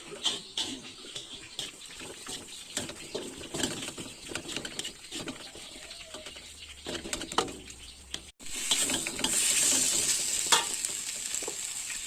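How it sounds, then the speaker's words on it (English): Fried rice ingredients stirred in a pan, with scraping spatula strokes over steady sizzling frying that grows louder and denser near the end, no talking. "Stir until blended."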